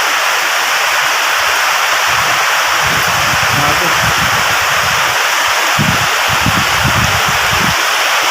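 Heavy rain and strong wind pound down during flooding at a home in Pampanga, a steady, dense roar of water and gusts filling the whole clip, with voices speaking over it.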